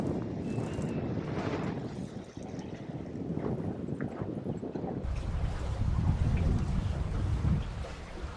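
Wind rushing over an aluminum Enksail Orion 49 sailboat under sail in light breeze, a steady broad roar of gusting air and microphone buffeting with water wash beneath, strengthening toward the end.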